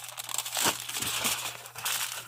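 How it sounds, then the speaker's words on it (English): A sheet of aluminum foil is crumpled by hand while restoring a Ford Galaxie car horn ring, giving a close, continuous crinkling with several sharper crunches throughout. "Want to crumple it up."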